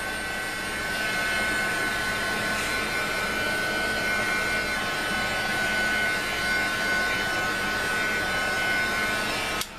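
A hair dryer blows steadily on a stamped mixed media craft piece, a loud, even whirring rush that holds for nearly ten seconds before cutting off abruptly at the end.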